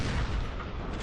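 A cannon shell bursts on the ground in a Civil War mod battle game, a loud, dense booming rumble that fills the whole second with no voices.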